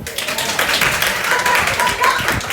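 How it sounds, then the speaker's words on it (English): An audience claps together in a sustained, dense burst lasting a couple of seconds, loud and close throughout. "when I do like this, that means I want y'all to clap"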